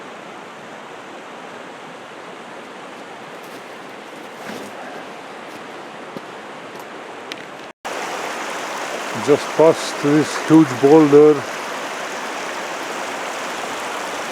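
A mountain creek rushes as a steady broadband wash, softer at first, then louder and closer after an abrupt cut, while someone speaks briefly over the water.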